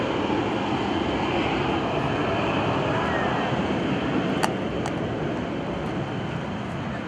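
A KC-135R Stratotanker jet roaring past at the 2011 Boston Portsmouth airshow, a loud, steady broadband rumble and wind-like wash from a distance, with brief faint clicks partway through.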